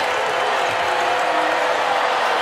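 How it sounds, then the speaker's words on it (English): At a women's NCAA first-round college basketball game between Gonzaga and UC Irvine, the arena crowd roars in a loud, steady, dense wash of cheering that holds throughout without letup. "Crowd is up and roaring"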